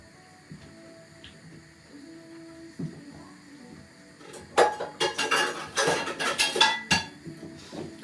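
A frying pan on a kitchen stove during home cooking, handled with clattering metallic knocks and clinks that build into a busy run of clanks after a quieter stretch of faint background hum.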